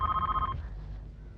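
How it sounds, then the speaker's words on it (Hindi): A telephone rings with a rapid trilling electronic tone for about half a second before cutting off, leaving low background hum. "फोन आया, चलो चलो देखते हैं किसका फोन है।"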